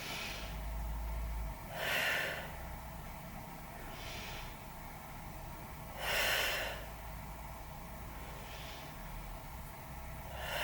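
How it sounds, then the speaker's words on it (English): Slow, deep breaths taken during a seated Pilates twist stretch, two strong breathy exhalations several seconds apart with fainter inhales between, alone over quiet room noise. "Take 3 more breaths."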